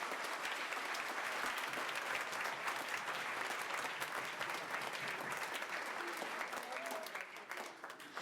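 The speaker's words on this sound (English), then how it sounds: "So round of applause to thank you for all those folks to make this happen." Audience applause at a school band concert with an 8th grade and high school band, a broad sustained roar of many clapping hands heard fairly faintly, tapering off slightly at the end.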